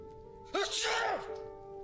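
One sudden, close sneeze bursts out over a faint steady hum and then fades quickly into quiet.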